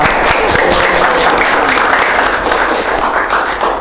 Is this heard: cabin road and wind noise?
no